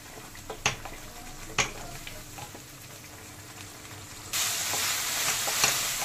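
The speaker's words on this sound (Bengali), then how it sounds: "এবার এর মধ্যে দিয়ে দেব পেস্ট করা মশলাটা। এবার বেশ ভালোভাবে কষিয়ে নেব।" Spice paste frying and being stirred in a pan for a home-cooked dal dinner, a steady sizzle with a few sharp utensil clinks, the sizzle swelling much louder and hissier in the final seconds.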